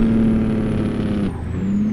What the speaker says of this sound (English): Use our Jake brake there.